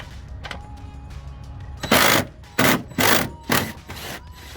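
A socket wrench ratchets on a 14mm seat belt bolt inside a Toyota 4Runner, four loud close bursts of rapid clicking after a few faint taps.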